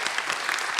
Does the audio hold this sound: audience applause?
yes